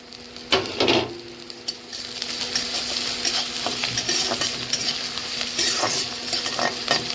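Chopped onion, garlic, ginger and chili frying while being stirred, a loud steady sizzle broken by a few sharp scraping stirs early on, then continuous crackle with occasional utensil knocks, close and without talk.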